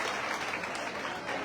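Applause from an audience at a Maratha community gathering honouring an elder, a dense steady clatter of many hands filling the space for the whole moment, with no voices over it.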